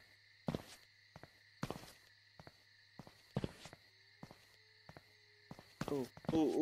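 Footsteps inside a house in the video game Sneak Thief, a handful of distinct, evenly spaced thuds over a faint steady tone, with a brief voice near the end.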